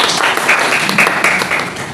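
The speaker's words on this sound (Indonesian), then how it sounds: "Tepuk tangannya." A classroom group claps in brief applause, a dense, loud burst of overlapping hand claps heard close by throughout.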